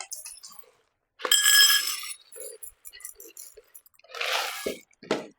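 Dry macaroni noodles poured into a pot of boiling water, a clinking, splashing rush in two separate bursts, with quieter bubbling and small knocks between them.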